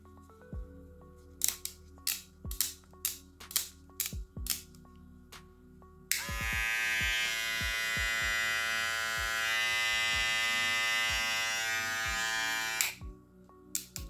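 A Gamma+ Boosted hair clipper with a super torque motor, heard first as a series of sharp clicks, then switching on into a loud, steady, close buzzing whir for about seven seconds before cutting off.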